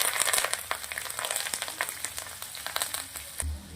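Mustard seeds and cumin crackle in hot oil while tempering a Rajasthani-style red curd vaghar, with brief sharp pops scattered over a steady close sizzle, and no talking.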